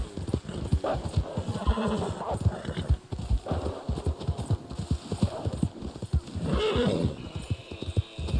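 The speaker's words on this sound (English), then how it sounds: "Don't slow down, horses. Keep going." Rapid, rhythmic hoofbeats of galloping horses in the video game Red Dead Online pound steadily throughout, with an occasional whinny rising above the drumming.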